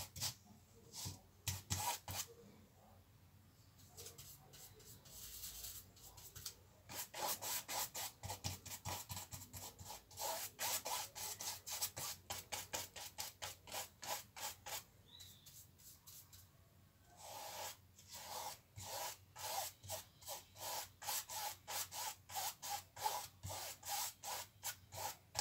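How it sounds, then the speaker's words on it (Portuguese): A paintbrush sweeps along the side of a small canvas in quiet, rapid bristly strokes, repeating in quick bursts with short pauses and no talking. "Pintando aqui a lateral para fazer o acabamento."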